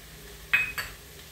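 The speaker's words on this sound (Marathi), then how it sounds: "आणि हे सगळं हलवून घेते" A spoon stirs grated potato with half a lemon's juice in a bowl for potato paratha filling, giving two brief, close clinks a quarter second apart over a quiet background.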